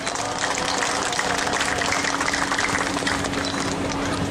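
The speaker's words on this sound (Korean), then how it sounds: "연대와 격려 박수로 모시겠습니다" An audience at a rally of non-regular workers gives warm applause to welcome a speaker: a dense, continuous wash of many hands clapping, loud and sustained throughout without a break.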